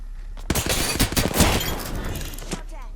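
Gunfire in the video game Apex Legends, a rapid burst of loud, crackling shots with impacts over about two seconds, mixed with game noise and a voice speaking.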